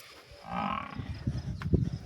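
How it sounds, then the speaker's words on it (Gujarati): A freshly calved Kankrej cow gives a single low moo, close and fairly loud, with some soft rustling and shuffling after it. "આ કાંકરેજ નસલની ગાય વેચવાની છે"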